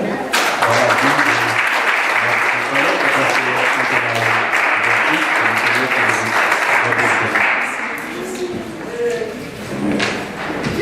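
Congregation applauding in church at a vow renewal ceremony, steady clapping sustained for several seconds with a low rhythmic thumping underneath, likely music, and voices mixed in.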